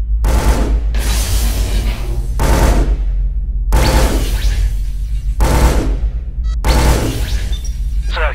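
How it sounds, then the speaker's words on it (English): Blind-fire gunshots over a counter in the shooter game Scourge: Outbreak, six loud rapid-fire bursts of automatic gunfire separated by short pauses, with sharp cracks and a heavy low thump. "Now reach up and blind fire a few shots over the counter."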